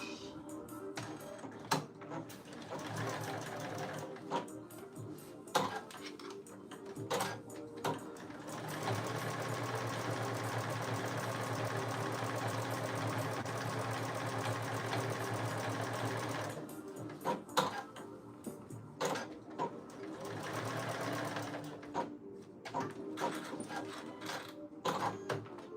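A sewing machine bastes the raw edges of thick tweed, stitching in a steady fast run of several seconds framed by short bursts and stops, close and moderately quiet.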